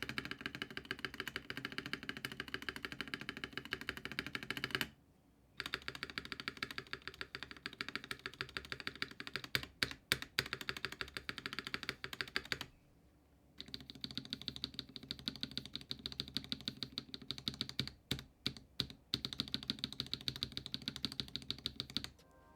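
Typing on a modded 75% mechanical keyboard fitted with a Nuphy ghost spacebar, with rapid, close-up keystroke clicks in continuous bursts, broken by a couple of short pauses and some separate heavier taps.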